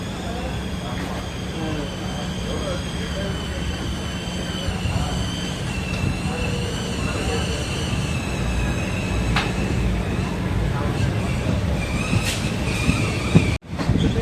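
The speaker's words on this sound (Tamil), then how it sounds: "ட்ரெயின் எடுத்துட்டாங்க." A passenger train on the Tiruchendur to Tirunelveli line rumbles along steadily with wheel clatter and a squealing tone, recorded from inside the carriage with voices talking in the background and a brief sharp knock near the end.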